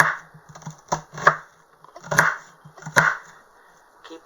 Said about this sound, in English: start dicing away with your very sharp knife